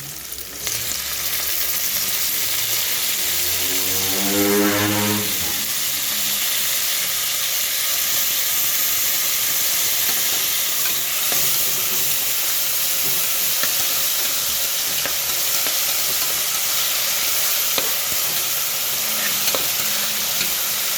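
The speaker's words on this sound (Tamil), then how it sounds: "வெங்காயம் ரொம்ப வதங்கக்கூடாது" Onions sautéing in a hot pan make a loud, steady sizzle and hiss. Near the start a utensil stirs them with a few scraping strokes, and the frying then carries on unbroken.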